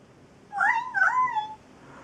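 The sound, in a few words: toddler imitating a cat meowing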